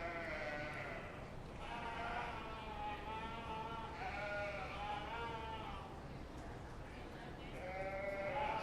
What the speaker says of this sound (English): we're now bringing in our first class of Southdown ewes